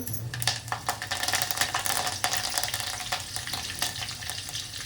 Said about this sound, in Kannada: ಪಾತ್ರೆಗೆ ಸ್ವಲ್ಪ ಎಣ್ಣೆ ಹಾಕ್ತಾ ಇದ್ದೇನೆ ನೋಡ್ರಿ ಒಗ್ಗರಣೆಗೆ ಸಾಸಿವೆ ಇದು ಜೀರಿಗೆ ರೀ ಹಾಕೊಳ್ತಾ ಇದ್ದೇನೆ